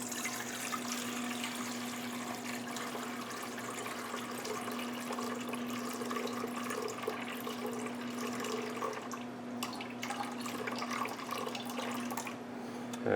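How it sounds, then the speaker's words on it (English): Filtered water streams steadily into a bowl for pizza dough, a soft continuous pouring wash heard alone at moderate level, ending with a small knock. "we'll put 700 grams"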